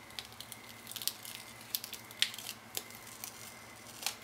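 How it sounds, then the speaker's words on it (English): Paper label being peeled off a plastic water bottle, giving soft, faint crinkling and tearing rustles with small scattered crackles over several seconds, quiet and close, with no talk. "Peel as much of the paper off as possible."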